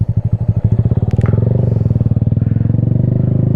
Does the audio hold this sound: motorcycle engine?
yes